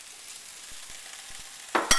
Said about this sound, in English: We're going to add our chicken that we smoked on the grill.